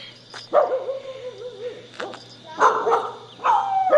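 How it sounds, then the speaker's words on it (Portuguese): A pitbull out on a walk gives several loud, close barks and yelps, with a wavering whine between the bursts and a steady low hum underneath. "tem um pitbull ali e aqui, eu tô me afastando bem dele"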